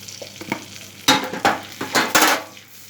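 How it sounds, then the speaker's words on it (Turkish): Chili flakes toasting in melted butter or fat in a pan, a loud crackling sizzle broken by several bursts of stirring scrapes, close and with no talking. "Şimdi içine pul biberimi atıyorum. Onu bir güzel yakacağım. Yani kavuracağım."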